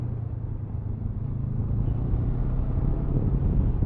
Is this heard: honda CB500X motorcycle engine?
yes